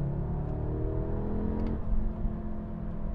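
A 2022 Audi S3 performance sedan engine revs steadily with a loud, close, continuous droning exhaust note, shifting in tone partway through, with a few faint crackles near the middle and no talking.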